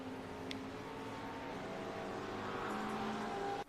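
A Porsche GT race car engine in a sim racing game at Silverstone hums steadily with layered tonal drone, slowly shifting pitch as it moves through Becketts, with a brief sharp click early on.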